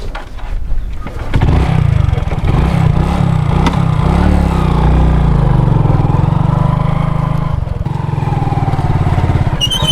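A motorcycle is kick-started: after a second of scuffing the engine catches and runs loud and close, its revs rising and dipping as it pulls away and keeps going, with no talk over it.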